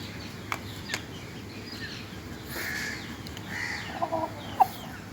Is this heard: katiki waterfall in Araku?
no